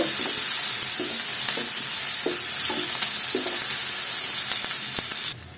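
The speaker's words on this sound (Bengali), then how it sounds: "এই তেলে পেঁয়াজ দিয়ে এবার একটু তেলের সাথে পেঁয়াজটা একটু নরম করে নেব" Onions frying in hot oil after fish, with a steady broadband sizzle and soft, rhythmic stirring scrapes roughly every half second, heard close up with no voices.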